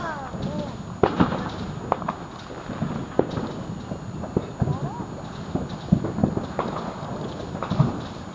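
Fireworks at a family July 4th celebration pop and crackle in a series of sharp bursts at irregular intervals, fairly close, while people talk throughout.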